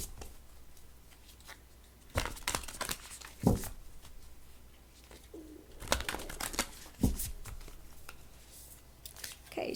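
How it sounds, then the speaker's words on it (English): Tarot cards are riffle shuffled at close range, with several sharp bursts of rapid fluttering clicks separated by quieter pauses. "Let me ruffle shuffle the cards"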